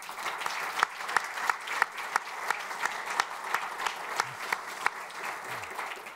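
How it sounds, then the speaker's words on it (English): A conference audience at an aviation safety event gives a round of applause for the TRAFICOM team, steady mid-distance clapping with a few sharper individual claps standing out. "can we give a round of applause for the TRAFICOM team?"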